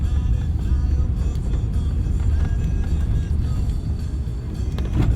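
Steady low rumble of a car being driven, with road and engine noise holding even throughout and no talking.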